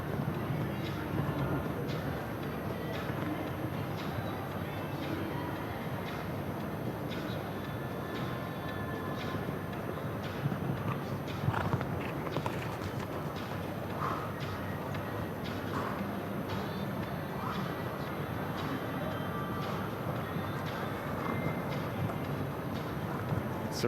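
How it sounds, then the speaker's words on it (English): A show-jumping horse canters around an outdoor arena course at a five-star international event, its hoofbeats a steady rolling rhythm partly masked by constant broadband crowd and ambient arena noise. "Triple T Calamando Blue making good progress out on the course"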